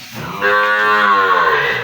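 A young native cow with two teeth, kept with its calf, gives one long, loud, close moo that swells and holds for over a second.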